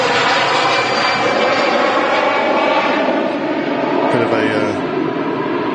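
A loud, steady EasyJet jet airliner roars through its takeoff run at Manchester Airport, a broad continuous engine rumble that holds throughout with a brief tonal shift near the end, and voices talk over it.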